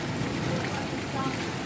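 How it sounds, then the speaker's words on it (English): A hailstorm pelts a house in Colorado, making a dense, steady rattling roar of impacts with no letup across the short stretch. "This is a hailstorm, and it's causing some damages on the house."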